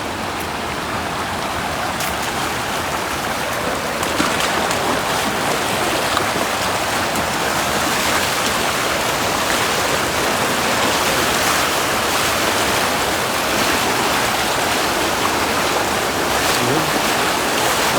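A river rushes in a loud, unbroken roar of churning water during cast-net fishing, steady and close throughout.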